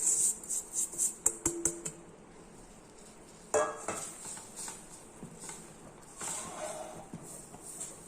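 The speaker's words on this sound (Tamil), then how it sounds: "நல்லா சிம்மில் வச்சுக்கிட்டு நல்லா கிளறி விட்ருங்க" A utensil scrapes and clinks against a cooking pan on low heat while making adai, in quick repeated strokes, then slower occasional stirring scrapes with quiet gaps.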